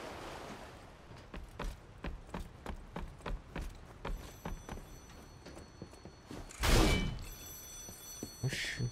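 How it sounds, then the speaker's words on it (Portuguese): A telephone rings in the video game Lies of P, a bright trilling bell sounding twice amid steady rhythmic footsteps and mechanical clatter, with a loud thump in between. "Oxi, telefone, né?"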